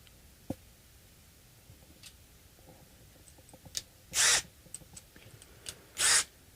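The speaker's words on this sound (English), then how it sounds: "I can use the power drill for this to unscrew." A power drill unscrews a plate on a Schecter Damien-6 guitar in two short, close whirring bursts, with quiet clicks and handling noises between them.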